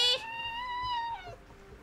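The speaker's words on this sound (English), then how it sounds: "Miss Lizzie is Mr. Gray's cat. She's a tortie" A tortoiseshell cat gives a single clear, drawn-out meow close by, rising then falling in pitch, with no talk over it.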